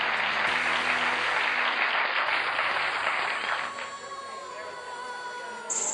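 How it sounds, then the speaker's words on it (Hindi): A crowd greets the honorable chief guest at a foundation function with loud, dense applause that stays strong for several seconds and then eases off, with faint music tones rising beneath it. "तो जोरदार तालियों के साथ उनका स्वागत कीजिए"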